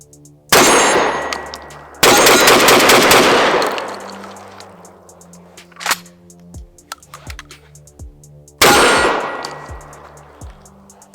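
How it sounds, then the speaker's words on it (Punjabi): Shotgun blasts at an outdoor target range, three loud booming shots each followed by a long ringing decay, with a sharp metallic clang between them and no talking. "ਸੋ ਇਹਦੇ ਵਾਸਤੇ ਸਿਰਫ ਤੁਸੀਂ ਸੇਫਟੀ ਨੂੰ ਆਫ ਕਰੋ ਤੇ ਟ੍ਰਿਗਰ ਖਿੱਚੋ।"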